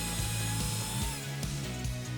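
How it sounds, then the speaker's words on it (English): Power drill boring holes for eye bolts in a DIY shelf build, a steady close whine with short pauses and restarts as the bit works through incrementally. "we can go ahead and start drilling those out incrementally just like we did up above"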